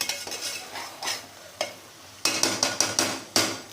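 Chicken with chili oil is stirred in a pan, with a series of scraping, clattering strokes of the utensil against the metal over a faint sizzle, the strokes coming faster and closer together in the second half.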